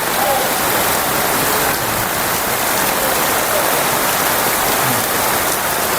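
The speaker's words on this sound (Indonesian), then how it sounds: "Baru hitungan menit hujan, tapi air hujan mulai masuk" Heavy rain pours steadily on a flood-prone street in Lambheu, a dense, loud hiss of drops hitting surfaces with no letup.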